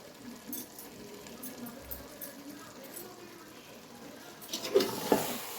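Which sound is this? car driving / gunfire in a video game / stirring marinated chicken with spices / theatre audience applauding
stirring marinated chicken with spices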